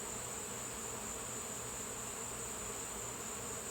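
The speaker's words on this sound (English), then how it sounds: "We extracted the honey and left frames on the table out here for my honeybees to clean up, and boy, they are cleaning them up for me." Honeybees swarming over honey extraction frames left out on an outdoor table, a steady dense buzzing drone that holds evenly throughout at close range with no voices.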